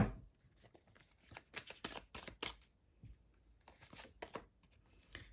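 Crisp riffling bursts of playing cards being shuffled, several quick ruffles in succession, close and fairly quiet with no voices.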